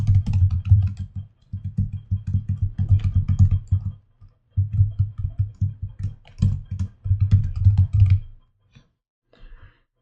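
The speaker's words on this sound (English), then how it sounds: "Let me type in some information in the form." Typing on a computer keyboard while filling in a web form, with rapid bursts of close, clicky keystrokes separated by short pauses, running steadily for several seconds.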